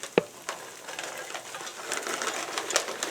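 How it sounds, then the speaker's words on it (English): Browned ground beef in a pot gives off a soft, steady sizzle and crackle, broken by a sharp clatter at the start and a few utensil knocks. "I have browned my meat, and I'm now ready to add 2 cups of onion"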